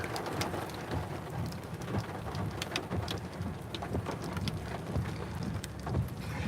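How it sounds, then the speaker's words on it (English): Heavy rain pours steadily through a severe thunderstorm in southwestern Oklahoma during tornado activity, with deep rolling thunder rumbling underneath about a mile away; loud and continuous, no talking. "The thunder's very intense."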